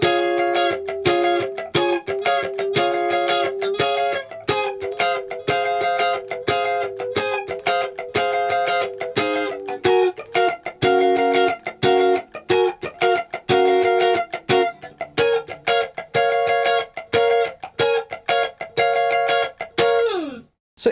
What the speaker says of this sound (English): let's take a look at those high chords which are kind of overdubbed to give it a bit more of a melodic quality